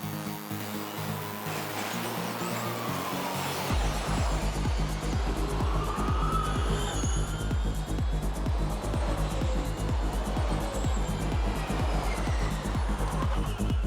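A Formula E race car driving on a street circuit, a high electric whine with pulsing rhythmic beats and rising and falling tones, loud and close, after a brief lower hum at the start.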